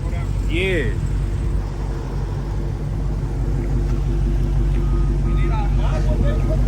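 A Dodge Hellcat engine rumbles deeply and continuously while the car is maneuvered into position, loud and close, with people talking over it throughout.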